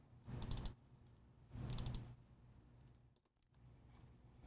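A computer mouse gives two quick bursts of crisp clicking about a second apart, close and faint against a quiet room, followed by a softer tick.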